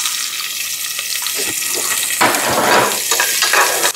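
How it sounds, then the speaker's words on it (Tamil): Small shallots fry in hot oil with crushed peppercorns, a loud close sizzle that keeps up throughout and surges as the pieces are stirred about in the pan. "இப்போ இதில் வெங்காயம் போடுறோம்."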